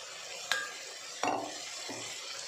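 Dill leaves stir-fried in a pan, with a faint steady sizzle and a few quick metallic scrapes of a spoon against the pan, close by and without speech.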